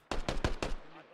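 Video game gunfire in Squad: a rapid burst of four loud automatic shots, evenly spaced, followed by a brief fading tail.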